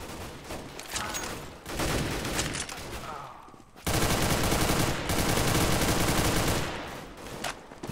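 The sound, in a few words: automatic gunfire spray from video game Counter-Strike: Global Offensive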